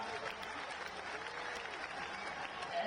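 Crowd applause rising at a Hindu Ekta padyatra gathering in Mathura, a dense, fairly distant wash of many hands clapping steadily for a few seconds.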